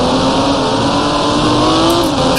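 Race car engines roar steadily in GT Racing 2002 with a slower Porsche nearby, a loud, close, sustained drone holding a constant pitch with no voices over it.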